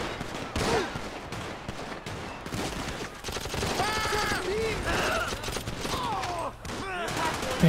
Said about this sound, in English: I'm trying to see who's shooting right now.